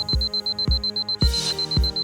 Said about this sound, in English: To turn off the alarm sound, press the Buzz Stop button.